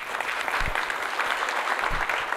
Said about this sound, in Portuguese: Por favor, uma salva de palmas para recebê-lo.